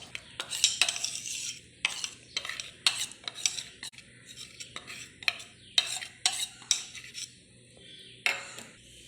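Ground spice paste being worked into raw chicken for a spicy Malabar-style chicken kondattam, heard as a run of soft, irregular stirring and scraping strokes against a bowl, close and moderately quiet, with no talking.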